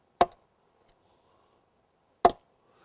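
Two sharp, hollow wooden knocks imitating moose antlers knocking on a tree, about two seconds apart, loud and close, with quiet stillness in between.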